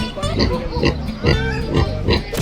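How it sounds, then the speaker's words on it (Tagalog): A large pig grunts and oinks in several short bursts, loud and close, with people talking over and between the grunts. "Ang breed ng baboy kaya yan. Laki naman."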